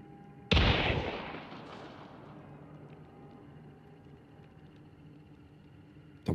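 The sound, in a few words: gunshots in the video game Hunt: Showdown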